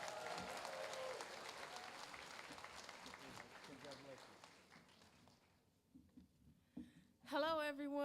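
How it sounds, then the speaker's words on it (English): A graduation crowd applauds the class valedictorian, sustained clapping for several seconds that thins out and fades, followed by a brief pause and then a voice beginning to speak. "Let's give her a great round of applause."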